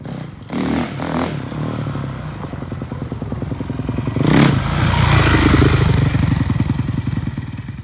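A Honda CRF450R dirt bike fitted with a Rekluse clutch pulls away in second gear, its loud single-cylinder engine chattering close by, then revving harder and accelerating as the throttle opens.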